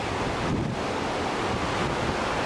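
Pacific Ocean surf and steady wind from a balcony in Hawaii form a continuous loud roar with heavy wind buffeting on the microphone, no talking.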